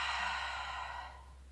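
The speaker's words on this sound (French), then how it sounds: "on va prendre le temps d'inspirer par le nez et d'expirer par la bouche" A single slow, audible exhale through the mouth during a relaxing back-stretching session, soft and close, gradually fading over a second and a half.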